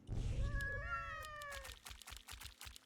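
Cat units in the video game Legion TD 2 give several overlapping, rising and falling meows, loud and close, followed by a run of sharp rhythmic thuds.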